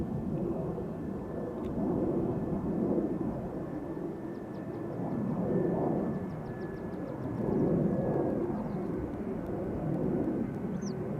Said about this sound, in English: KLM Embraer going out.